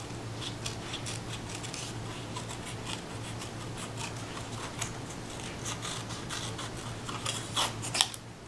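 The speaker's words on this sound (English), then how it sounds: "Now you can trim" Scissors trim paper around an oval shape with repeated crisp snips and rustles of paper, close and steady, growing a little busier toward the end.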